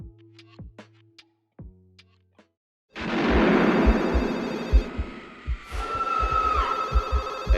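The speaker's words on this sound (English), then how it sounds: "There's a phone." A telephone rings in the 1996 horror film Scream, a few short electronic rings near the start, then a loud blast of music with throbbing low pulses takes over.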